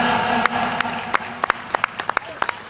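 Loud applause from an audience at an honouring ceremony, with sharp individual claps standing out over steady crowd clapping and some background voices.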